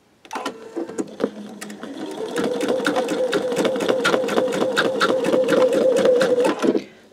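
An embroidery machine stitches out a design for a greeting card, a fast rhythmic needle chatter with regular clicks over a steady motor hum, close and loud, starting and stopping once.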